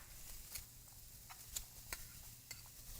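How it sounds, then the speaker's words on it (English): Onions and green peppers in olive oil sizzle softly in a pan, with scattered light stirring taps and scrapes over a steady low hiss. "I'm going to be sauteing all of these ingredients together over here, putting in the onions, the green peppers"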